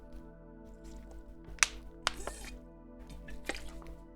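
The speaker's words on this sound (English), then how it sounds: "like a load of air came through the bottle" Sips from a plastic water bottle, with air gurgling back through it, give soft wet squishes and a few sharp clicking drips, close and faint over a quiet hum, with no talk.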